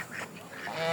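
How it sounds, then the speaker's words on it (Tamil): A watchman duck at a bird farm in Shah Alam, Malaysia gives a few raspy, nasal honks close by, fairly quiet against light background noise. "இதான் வாட்ச்மேன் வாத்து. இது நம்மளை துரத்தி கொத்தும்."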